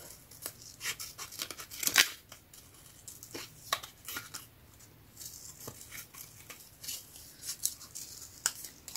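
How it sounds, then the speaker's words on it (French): Large scissors making small cuts around a paper shape for card making, with irregular crisp snips and rustling paper, close and moderately quiet, a sharper snip standing out near the start. "je travaille avec un grand ciseau pour faire des petites coupes"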